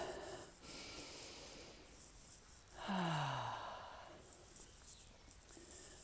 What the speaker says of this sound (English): I'm going to take a deep breath now.